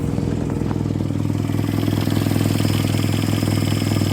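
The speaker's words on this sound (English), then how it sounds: "she is idling on her own" A 1946 Jeep engine idling on its own after being revived, a steady close mechanical rumble with a busy clattering rhythm and no talk.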